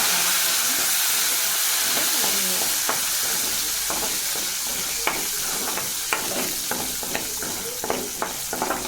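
A loud, continuous sizzle of curry leaves frying in hot oil for a tempering, with scattered crackles and pops and occasional stirring scrapes.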